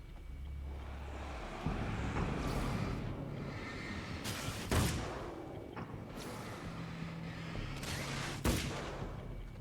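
Sharp gunshots in Alan Wake's American Nightmare, about four distinct cracks spaced a couple of seconds apart over a steady rumbling ambient bed with low droning tones.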